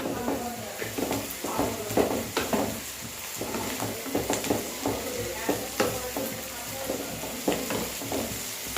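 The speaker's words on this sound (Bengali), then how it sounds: "রসুনটা 1-2 মিনিট একটু নেড়ে চেড়ে নিয়ে" Garlic frying in hot oil with browned onions for chicken do pyaza is stirred, a busy close sizzle broken by frequent clattering scrapes of a spatula against the pot.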